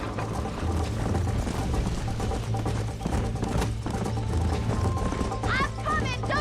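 Horse hooves gallop in Red Dead Redemption, a steady clip-clop rhythm under game music and voices, with riders calling to each other as they ride.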